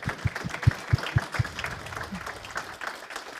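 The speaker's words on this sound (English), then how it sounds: "Otherwise, I would like to thank you with a big applause." Audience clapping at the close of a university tech talk on quantum computers, starting with a few sharp individual claps and spreading into modest, fairly faint applause from a small crowd.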